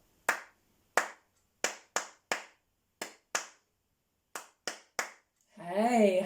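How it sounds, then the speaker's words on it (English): Hands clap a rhythm in a music lesson, ten sharp, close claps in an uneven pattern separated by rests, followed by a voice speaking at the end. "try and clap that with me"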